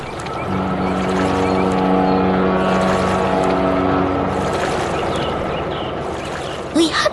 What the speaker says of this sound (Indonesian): Lihatlah kapal kargo raksasa itu.